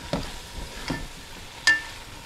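Meat fries in a pot with a faint, continuous sizzle, broken by a few soft stirring scrapes and one sharper metallic clink near the end.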